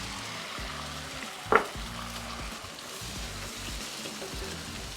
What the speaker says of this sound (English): let's get the eggs fried up right quick